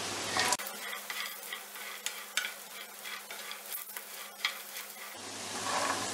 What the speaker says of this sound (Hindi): मीडियम फ्लेम पे हम इन्हें फ्राई करेंगे।